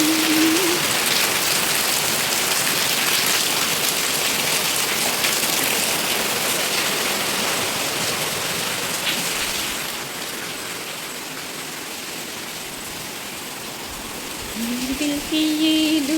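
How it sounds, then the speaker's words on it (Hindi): Heavy evening rain pouring down outside a home, a dense continuous hiss of drops striking surfaces that eases slightly partway through, with a faint tonal sound near the end. "शाम के करीबन 5 बज रहे होंगे और तेज़ी से पानी गिरने लग गया था।"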